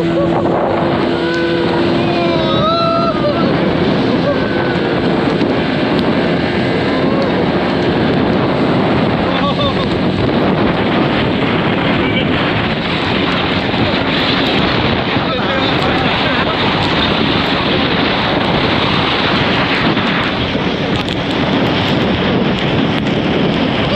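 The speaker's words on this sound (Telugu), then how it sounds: "ముగ్గురం అయితే స్పీడ్ బోట్కి వెళ్తున్నాం మంచి వర్షంలో." A speedboat ride on rough water in heavy rain near Lonavala, with a loud, steady engine roar and dense wind and spray noise filling the whole span, faint voices occasionally underneath.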